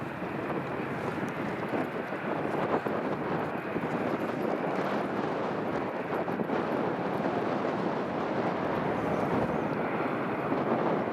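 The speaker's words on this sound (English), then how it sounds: "the KLM 737-800 is pushing back as well now" A KLM Boeing 737-800 pushing back at Edinburgh Airport gives a steady, broad jet-engine roar that holds for the whole stretch, with wind buffeting the microphone outdoors.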